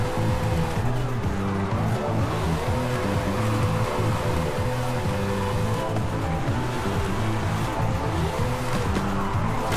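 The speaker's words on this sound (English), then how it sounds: "I'm going to try to drift against traffic here" A 1993 Jaguar XJ220S TWR drifts in the Forza Horizon racing game, its tires squealing continuously over a loud, steady engine drone.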